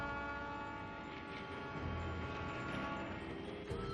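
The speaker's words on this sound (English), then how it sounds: "This railway in Switzerland uses cogs instead of normal wheels to crank its way uphill." Swiss cog railway train grinding its way uphill, a continuous mechanical rumble with steady tonal whine and faint squeal, moderately distant and heard alone without talk.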